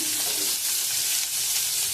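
Onions sizzle and crackle steadily in hot oil for a carrot curry, a loud, continuous frying hiss with no voices.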